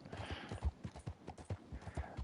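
Horse hooves clip-clop steadily in the Red Dead Redemption 2 Online video game, a loud, even trotting rhythm up close with a faint voice in the background.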